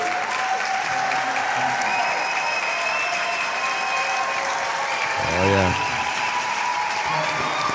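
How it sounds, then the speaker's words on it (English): Applause from a crowd at a professional ballroom dance championship, honouring Tom Murdoch, fills the hall steadily throughout with a dense, continuous clatter, with a brief louder swell near the end. "have a huge round of applause and a huge thank you for Tom Murdoch"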